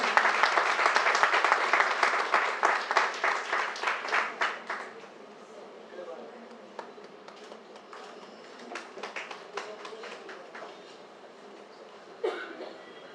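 A crowd claps loudly at a Constitution Day gathering of lawyers and bar staff. The dense applause fades after about five seconds, then scattered claps and murmurs follow, with a brief burst near the end.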